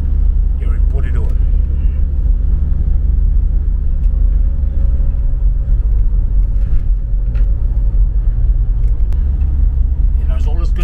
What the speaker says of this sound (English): I believe this, we're driving up Aotea